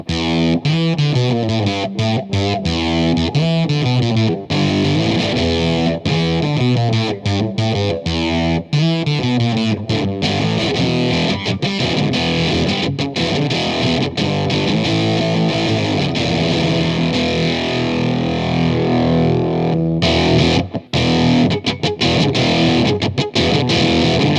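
Electric guitar played through an LOE Sounds Super Fuzz pedal with the gain turned down, giving a continuous, loud, distorted chordal riff with steady rhythmic strums and brief gaps, heard alone without talking.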